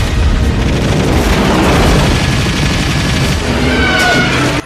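Military gunfire and explosions aimed at Godzilla in the 1998 film: a loud, dense, unbroken barrage of shots and heavy booms filling the whole stretch.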